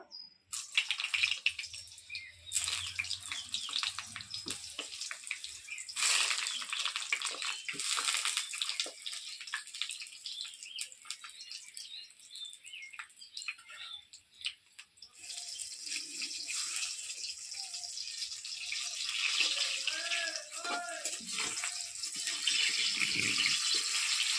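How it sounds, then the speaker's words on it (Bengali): Plain eggplant pieces, unsalted and without turmeric, fry in hot oil for a Bengali kalbaus fish dish, giving a continuous close sizzle with crackling spatter that swells again toward the end. "তেলটা গরম হয়ে গেছে এবার বেগুনগুলো ভেজে নেবো"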